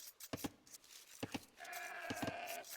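Sheep bleats from Age of Empires II, several short paired calls at a moderate distance, with a steady tonal game ambience rising in the latter half.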